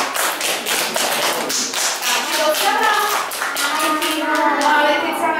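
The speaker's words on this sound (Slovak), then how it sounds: "čo zatleskáme týmto hercom mašinu?" An audience gives child performers at a children's safety show a round of clapping, a loud, fast patter of many hands, with children's voices rising underneath toward the end.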